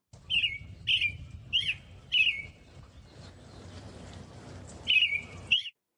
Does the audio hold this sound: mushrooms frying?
no